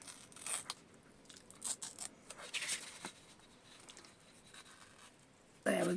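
Scrapbook paper from a 12 x 12 sheet being torn for a junk journal insert, heard as several short, close rips and crinkles scattered between quiet pauses, ending in a louder crunch of paper.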